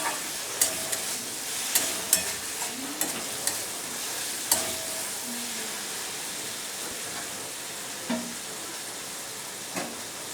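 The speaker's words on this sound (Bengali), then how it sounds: "চিংড়ি মাছটা একসাথে মশলার সাথে ভাজাও হয়ে যাবে" Shrimp frying with spices in a pan, a steady sizzle broken by repeated sharp scrapes and clinks of a spoon stirring against the metal, close and alone with no voices.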